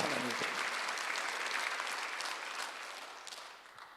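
Church congregation at a Sunday worship service applauding together, a dense steady clapping wash that slowly fades toward the end, with no voices over it.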